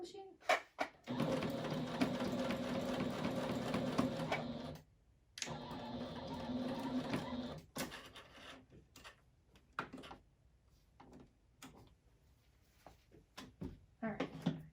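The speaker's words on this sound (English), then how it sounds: "Drop the needle down. And come on, machine." A sewing machine stitches a fabric face mask in two close, steady whirring runs. Quieter clicks and fabric handling follow, with a voice speaking briefly.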